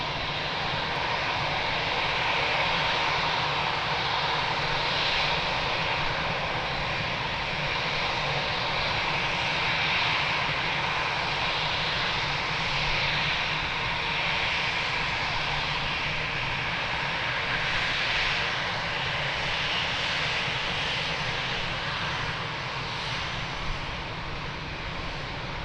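An Azul Airbus A330 jet landing at Lisbon Airport gives a steady, loud broadband roar of engines that holds without a break for the whole stretch, with no voices over it.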